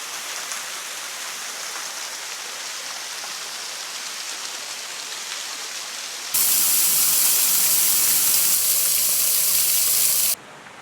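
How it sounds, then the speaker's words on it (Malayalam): A small, low-flow waterfall in Kodikuthi village, Kerala, gives a steady hissing rush of falling water that grows noticeably louder and closer partway through, then drops back briefly at the end. "ചെറിയൊരു വെള്ളച്ചാട്ടമാണെന്നാണ് പറഞ്ഞത്"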